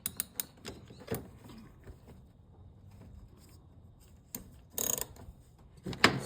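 Socket wrench loosening a spark plug on a 2011 Toyota Corolla, sharp close ratcheting clicks in short bursts separated by quiet pauses, with a louder rapid burst near the end.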